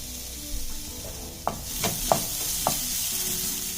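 Grated coconut, still cold from the freezer, roasts in a pan with a soft continuous sizzle while a spatula scrapes and stirs it in several distinct strokes, up close with no talking.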